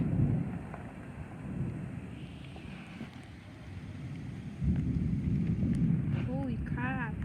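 Thunder rolls during a thunderstorm as a deep low rumble that surges midway, heard under steady wind buffeting the microphone, with a few faint chirps near the end.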